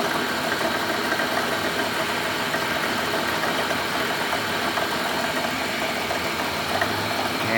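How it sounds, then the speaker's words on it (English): A rusty van's engine idles steadily after being restarted, a low continuous rumble with faint mechanical vibration, no voices and no change in pace. "So I started the engine back up"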